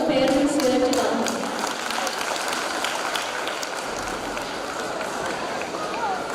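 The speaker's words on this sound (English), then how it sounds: "a good round of applause for all the parents here tonight" Steady applause from a crowd at a school parents' night fills the space, dense and continuous, following a brief burst of voice at the start.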